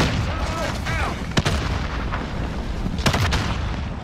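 A firework gun in a video game fires a couple of sharp booming shots, with muffled crackles and players' voices murmuring over a dense background rumble.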